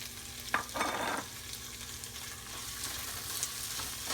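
Ginger garlic paste frying in hot oil in a pan for Hyderabad egg biryani, with a few close scraping stirs near the start over a steady low sizzle, no voices.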